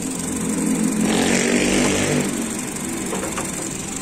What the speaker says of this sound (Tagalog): So ngayon nakastart yung makina natin.